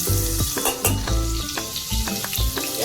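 Garlic and ginger paste hits hot oil with whole spices for a pulao, giving a loud, close, crackling sizzle with bursts of popping throughout.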